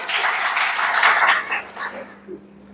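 Applause from an audience at a career counseling program in honor of three siblings, a broad burst of clapping that fades after about a second and a half, leaving scattered claps and a faint low hum.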